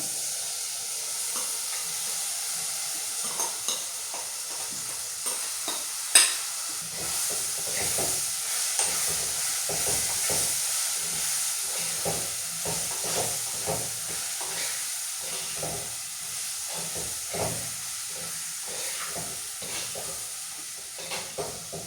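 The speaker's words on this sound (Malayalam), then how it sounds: "നമ്മുടെ എടുത്ത് വെച്ചിരിക്കുന്ന മാങ്ങ അതിലേക്ക് ആഡ് ചെയ്ത് കൊടുക്കാം." Mango pieces for a Kerala-style kadumanga pickle are stirred in hot spiced oil. A soft, steady sizzle runs throughout, with repeated light scraping stirs and no voices.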